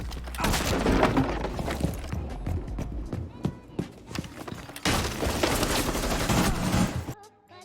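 Heavy sledgehammer impacts smashing through a breakable soft surface in a tactical shooter video game, a dense run of loud crunching blows and splintering debris with gunfire-like cracks, continuous for about seven seconds and then cutting off.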